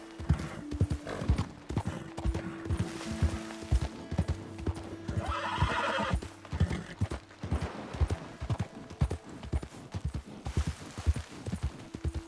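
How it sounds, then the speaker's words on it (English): Horse hooves trot in steady clip-clop rhythm in the video game Red Dead Redemption 2, close and continuous, with a few whinnies and faint game ambience around them. "cavalo já tá cansando"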